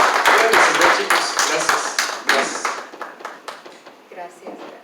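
A church congregation claps in praise, loud, quick hand claps bursting over one another, then thinning out and fading over several seconds.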